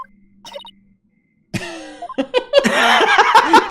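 In the video game Phoenix Wright: Ace Attorney Dual Destinies, after a faint tone and short silence, a single sharp cough breaks out, followed by a burst of laughter-like vocal sounds up close.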